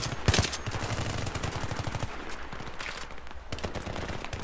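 Gunfire in Battlefield 3, rapid automatic bursts of close, sharp shots with a few heavier single bangs and brief gaps between volleys, loud throughout with no talking.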